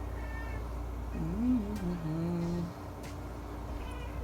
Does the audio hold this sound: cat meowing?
yes